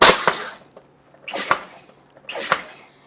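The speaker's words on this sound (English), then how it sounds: "Here goes some carbonation." Three short bursts of pressurized air hissing out of a carbonation bottle holding a mojito mix of fresh lime juice and ice-cold water. Each sharp hiss fades quickly, with brief silences between them.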